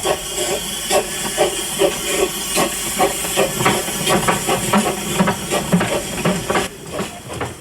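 A Krupp-built 15-inch gauge steam locomotive at Bressingham hisses and chuffs in a steady rhythm, loud bursts of steam repeating close by, with no voices.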